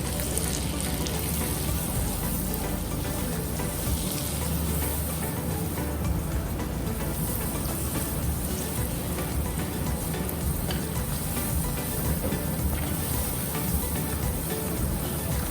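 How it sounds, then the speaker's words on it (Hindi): Two tablespoons of all-purpose flour roast in a pan over a medium flame, giving a continuous soft sizzle and crackle that stays even throughout, with nobody talking. "Now in this you add 2 tablespoons of maida, all purpose flour, और इसको भूनते जाइए."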